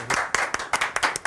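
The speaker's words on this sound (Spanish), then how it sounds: "un aplauso, por favor" Audience applause in a television studio, heard as a short burst of separate, uneven hand claps, fairly close and clear, with no talking over them.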